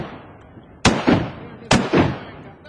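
Two sharp gunshots in a video game fire about a second apart, each a loud crack with a short echoing tail, while a voice speaks briefly.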